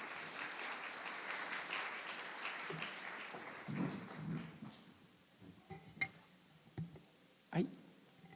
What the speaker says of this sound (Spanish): Demos un aplauso a la doctora.